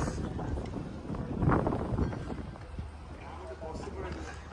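Wind blows outdoors at a Hindu temple in Abu Dhabi, a steady rushing buffet on the microphone that swells midway, while people talk over it.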